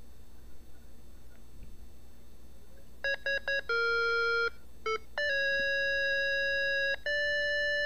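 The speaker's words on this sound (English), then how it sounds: "and if you step on it, you hear some doom music play." Gold Rush! on DOS plays a short, ominous tune of beeping PC-speaker notes: a few clipped tones, then longer sustained pitches and a final held note over a quiet background.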